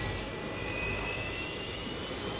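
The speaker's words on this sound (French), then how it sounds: "On voit ici l'avion qui décolle de la piste 10 et qui prend de la vitesse et qui monte." A Dassault Mirage III jet taking off from runway 10, its engine roar a loud, steady broadband rush that holds evenly throughout with no talk over it.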